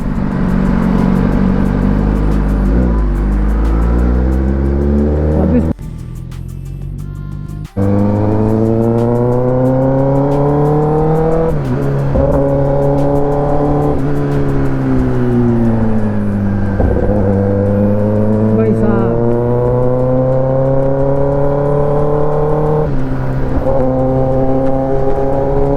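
A Kawasaki ZX10R sport motorcycle is ridden with its exhaust open and the dB killer removed. It gives a loud, continuous engine roar with rising and falling revs through gear changes and one brief dip in volume, with no talking.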